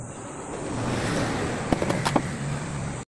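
A stalled electric fan motor that hums but will not turn gives off a steady low drone with a few faint clicks near the end, and there is no talking.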